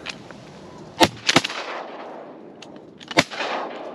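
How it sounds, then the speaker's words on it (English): Shotgun blasts sound outdoors during a duck hunt, with several sharp loud reports spread across a few seconds over background ambience. "Nice shot."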